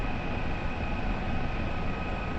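A Kiowa helicopter in the DCS flight simulator hover taxiing, with a steady, loud broadband rotor and turbine roar that runs alone without pause.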